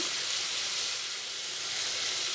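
Potatoes frying in hot oil in a pan for ghugni, a steady even sizzle and hiss, close and continuous, with no voices.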